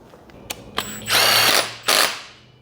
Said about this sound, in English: So I'll grab the socket for that and tighten him up.